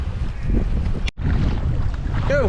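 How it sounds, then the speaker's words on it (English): A freshening wind on a hot day out on the water buffets the microphone in a continuous rough roar, broken only by a momentary dropout. No one speaks. "the wind's picked up a bit"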